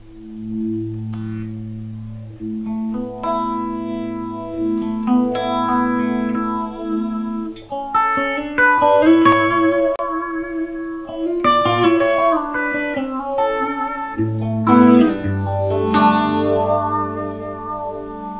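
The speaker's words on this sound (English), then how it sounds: "This is what a phaser sounds like." A guitar with a phaser pedal plays slow, sustained chords and melodic lines, its tone gently swirling and sweeping. Steady, moderately loud, no voices.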